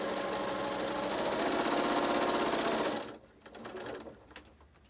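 Sewing machine chain piecing quilt fabric, a fast steady whirring stitch rhythm running close and loud for about three seconds, then stopping and giving way to quieter handling noises.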